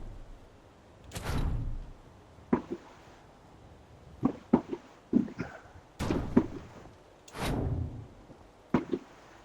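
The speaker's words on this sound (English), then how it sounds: "they're blowing No, off fireworks all over the you're place" Fireworks go off outside on the Fourth of July: a few muffled booms and cracks, each with a rolling tail, heard from indoors amid scattered sharper pops.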